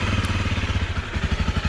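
A motorcycle engine idles close by, its loud, steady low putter pulsing evenly and alone throughout.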